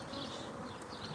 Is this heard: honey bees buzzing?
yes